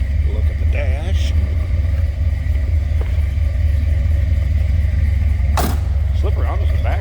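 A 1979 Chevrolet Corvette V8 idles after a cold start, a deep steady rumble with a throaty exhaust note heard from behind the car, with someone talking briefly and a sharp knock near the end.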